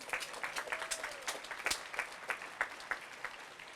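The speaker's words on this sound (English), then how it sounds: "Please give yourselves a round of applause." Audience applause at a convocation ceremony, a crowd clapping fairly quietly with distinct individual claps audible in an uneven patter, heard from a distance without talk.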